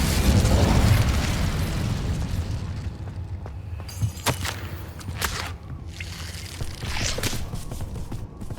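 An Incendio fire spell is cast in Hogwarts Legacy, a loud roaring whoosh of flame followed by several sharp crackling bursts and fizzing pops that fade over several seconds.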